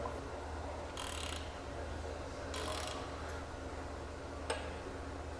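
A wrench clicks and ratchets in short bursts while bolts are tightened during soft foot correction on machinery. The clicks come close and crisp over a steady low hum, with a single sharp tick near the end.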